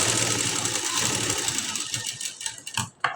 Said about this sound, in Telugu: చూడండి ఇలా ఒక పాదం తేడాతోటి స్టిచ్ చేసుకుంటూ రావాలండి.